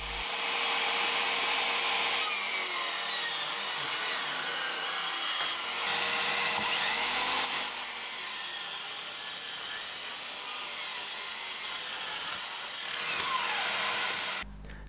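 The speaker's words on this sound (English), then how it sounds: "I need a cut at the angle, so I'm going to use the miter saw." A miter saw cuts an angled piece of scrap off a wooden board while making a boot jack, producing a continuous, close, high-pitched cutting noise for about fifteen seconds with slight shifts in tone and no talking.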